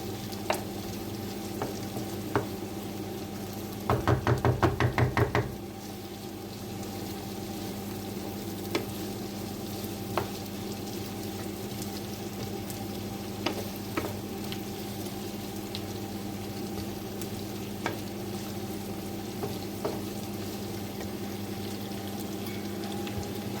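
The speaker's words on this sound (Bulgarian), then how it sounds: "Запържваме добре така. Да омекне чушката." Peppers frying in a pan give a steady, even sizzle throughout, with a short burst of louder rapid crackling or scraping near the start and scattered faint clicks, close and alone.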